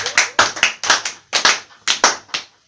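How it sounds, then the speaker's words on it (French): A church audience claps loudly and close by in uneven bursts of overlapping claps, pausing briefly between clusters, with no voices. "On peut applaudir encore."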